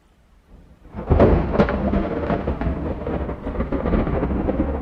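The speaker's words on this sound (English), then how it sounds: "That's a thunder sound effect." AI-generated thunder sound effect: after a brief quiet start, a loud close crack breaks into a heavy, sustained rumbling roll that holds steady to the end.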